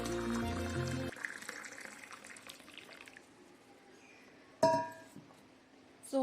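Hot water poured into a drinking glass indoors, a steady liquid stream with a few glassy clinks and a sharp knock near the end, heard on its own without talk.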